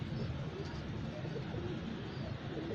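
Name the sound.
pigeons cooing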